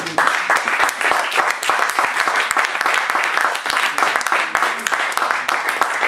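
Church congregation applauding the Lord, a dense, sustained burst of clapping from many hands, loud and continuous throughout, with voices mixed in underneath.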